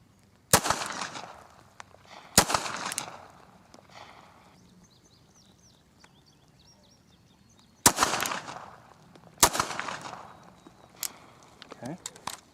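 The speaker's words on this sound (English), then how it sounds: "the first one we're going to be using is the Ruger LCP in .380. I'm going to be shooting the target on the left" A Ruger LCP .380 pistol fires at a target. Four sharp, loud shots ring out in two pairs separated by a pause, each with a short echoing tail, and quiet background noise sits between them.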